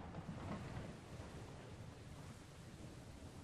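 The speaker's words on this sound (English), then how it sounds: "It's raining sideways." A sideways-blowing rainstorm in Minecraft makes a faint, steady rushing roar of wind and rain. It is a little stronger at first and then settles into a constant wash, with no voices.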